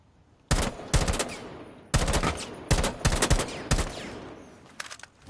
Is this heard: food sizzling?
no